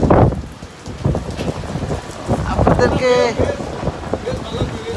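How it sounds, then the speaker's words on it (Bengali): Heavy rain lashes down with strong gusting wind in Dhaka, a dense roaring wash with wind buffeting the microphone, while someone talks over it close by. "প্রচণ্ড আকারে বৃষ্টি কিন্তু নামছে এবং বৃষ্টিতে বাতাস"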